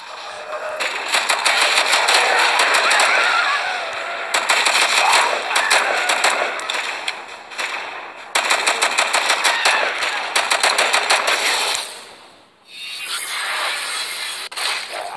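Rapid bursts of automatic gunfire from the video game Kill Shot Virus, loud and near, firing in several long sustained volleys separated by brief pauses and ending in a short quiet dip before more noise resumes.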